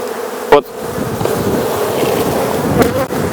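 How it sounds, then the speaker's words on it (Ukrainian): Honeybees covering the frames of an open hive in spring, a dense steady hum throughout, close and fairly loud, with a couple of brief sharper bumps. "всі рамки покриті бджолою"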